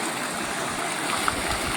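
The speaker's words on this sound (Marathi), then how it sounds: "हे पाणी खाली पडतंय आणि वाऱ्याच्या झोतानी परत वर येतं" Amboli waterfall near Sawantwadi, its water falling and blown back up by gusts of wind, a steady broad rushing roar heard from nearby with no voices.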